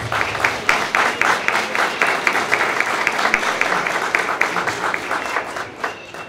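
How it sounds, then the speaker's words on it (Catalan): A crowd at an outdoor music school street concert in Ulldecona applauds the Orquestrina children's ensemble, dense steady clapping from many hands, lively and fairly close, fading slightly toward the end. "Rebem els seus membres amb un fort aplaudiment."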